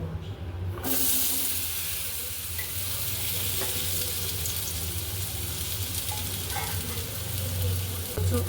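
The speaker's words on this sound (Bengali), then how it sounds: "মাছের লেজা ছিল আর মাথা ভাজছিলাম" A fish head fries in oil in a home kitchen, starting with a brief quiet moment and then a steady, close sizzling hiss with occasional soft pops that continues to the end.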